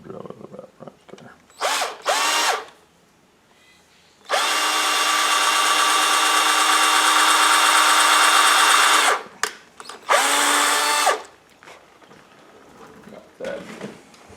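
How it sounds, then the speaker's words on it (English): A power drill with a 1/8 inch bit whirs in short bursts, then runs steadily for about five seconds before stopping, followed by another brief burst; close and loud. "Go find my drill over here, find my 1/8 inch bit."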